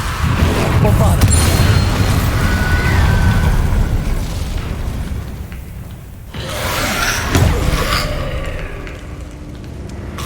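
Bombarda spell explosions in the video game Hogwarts Legacy, loud booming blasts layered over a dense, continuous battle din with spell effects, a voice shouting spell names over the action.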